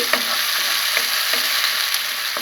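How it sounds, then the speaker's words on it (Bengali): Ground paste of fried nuts sizzles steadily in a hot pan for an egg korma, with a constant bright frying hiss and regular soft scrapes of a spoon stirring every half second or so, close and loud with no talking. "এ পর্যায়ে আমি বাদাম বাটা দিয়ে দিচ্ছি।"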